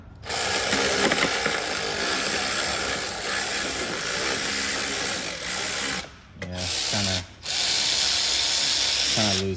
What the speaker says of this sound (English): Gonna get a new ratchet here pretty soon.